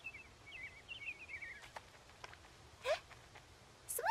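Cartoon birds chirp among trees, with a run of quick high twittering notes followed by a few sharper isolated chirps and calls, faint against a quiet background and without talk.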